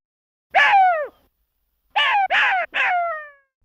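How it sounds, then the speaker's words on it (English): Jackal calling: one drawn-out, wailing cry, then a pause and three quick yelping howls in a row, loud and close, with no other sound. "Jackal."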